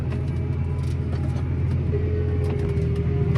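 A Claas Axion 940 tractor drives during deep tillage over cover crops on a snowy night, its engine a steady, close, low droning rumble with a faint rising whine partway through.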